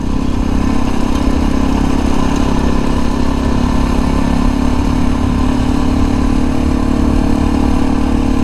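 Motorcycle engine running steadily on light throttle while riding hilly trail terrain, a continuous mid-pitched drone with no pauses, close and loud throughout.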